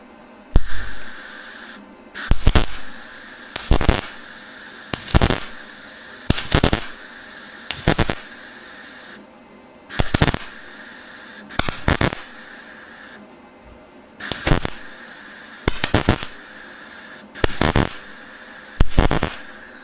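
Steel rock rails for a 2006 Jeep Wrangler Unlimited are welded in short bursts, about fourteen loud crackling, spraying runs of roughly a second each, with quiet gaps between them and no voices.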